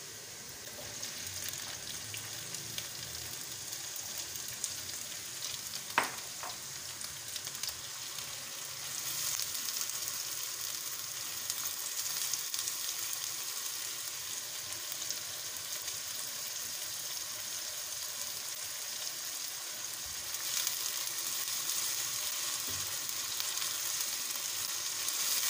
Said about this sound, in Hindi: प्याज को ज़्यादा फ्राई नहीं करना